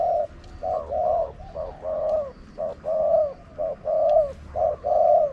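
A spotted dove coos repeatedly and close by, in short rhythmic phrases with brief pauses, over faint background hum.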